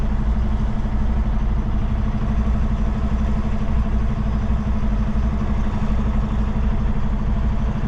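Engine noise inside a truck cab, with an air compressor running nonstop because of an air leak on the rig. The low, steady mechanical drone carries on evenly throughout, with a faint clatter layered over it.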